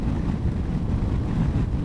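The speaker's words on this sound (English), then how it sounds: "So very blustery today" Wind buffets a rider on a Honda ST1100 motorcycle on a blustery day, a loud, steady low roar of wind noise with no talk.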